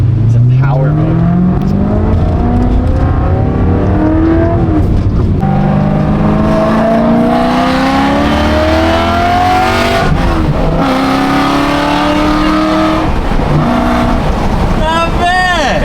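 A BMW F81 M3 wagon engine set to power mode revs hard and holds high RPM, its rising and falling harmonics loud and continuous throughout with a brief dip midway.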